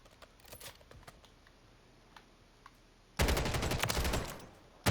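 A light machine gun fires in a video game, a faint burst of shots early on, then a loud sustained stream of automatic fire from about three seconds in that ends abruptly.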